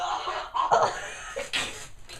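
Close, dry coughing from a man on a podcast, a few short bursts over about two seconds.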